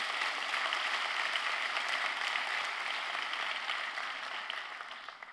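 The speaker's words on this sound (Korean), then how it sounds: "우리 하나님께 다시 한번 감사의 박수를 한번 올려드립니다." A church congregation claps in thanks during a Sunday service, a steady moderate wash of applause that gradually fades toward the end.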